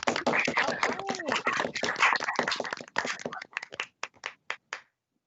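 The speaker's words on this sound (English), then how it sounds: "Let's give her an applause." A small group claps at an online honors thesis symposium, a dense burst of hand claps that thins into a few scattered, isolated claps before stopping.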